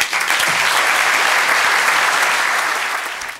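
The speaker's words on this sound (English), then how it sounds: "was welcomed with a warm round of applause as he was officially sworn in" Warm, dense applause from a courtroom audience as a newly sworn-in judge, a former Palos Verdes Estates mayor, is welcomed; steady and close, fading slightly at the end.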